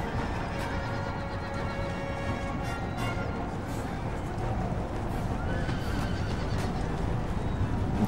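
Cavalry horses neigh and whinny repeatedly in the Empire: Total War battlefield, with faint hoofbeats over a dense, steady wash of battle noise.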